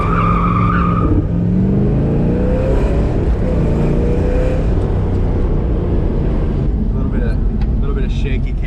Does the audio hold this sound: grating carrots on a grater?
no